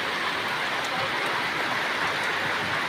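Steady rain falling outdoors in rural Tanay, Rizal, a dense continuous hiss with faint scattered drop ticks, even and enveloping, with no voices.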